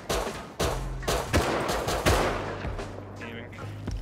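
Rapid gunfire rings out in a Rust survival video game battle, with repeated loud, sharp shots in quick bursts and echoing cracks. Some faint voices are mixed in.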